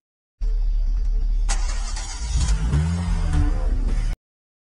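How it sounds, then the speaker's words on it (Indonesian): A car engine in an Indian film cranks and catches, then settles into a low running rumble, loud and close, with no talk over it. "mobil ternyata bisa langsung hidup dan tidak berkendala sama sekali"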